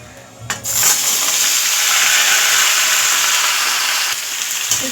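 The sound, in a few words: mixed vegetables added to hot oil, frying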